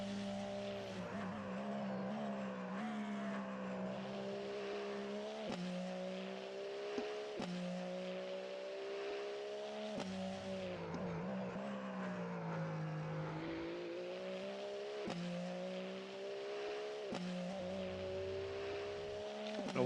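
Race cars circling Dubai Autodrome, engines droning steadily with rising and falling pitch as several cars accelerate and shift gears, a continuous mid-distance roar with no talk.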